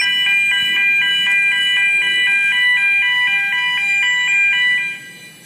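An EBS 260 stencil marking machine working on coated pipes gives a rapid, evenly spaced series of about a dozen short electronic beeps, loud and steady, with no talk over them.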